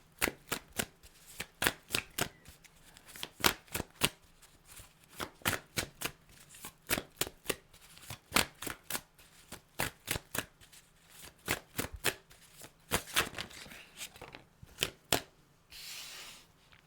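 Star Tarot cards being shuffled, a steady run of crisp riffling bursts repeating about every half second, close and fairly loud, with no talking over them.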